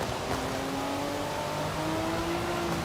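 A Lamborghini Revuelto's engine revs in the Forza Horizon 5 racing game, a loud continuous drone with rising tones as it climbs through gears, no talk over it.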